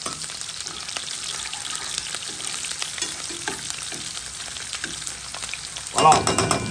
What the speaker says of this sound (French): Les oignons sont en train de bien revenir.